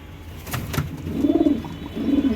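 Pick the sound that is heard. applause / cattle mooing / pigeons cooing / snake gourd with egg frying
pigeons cooing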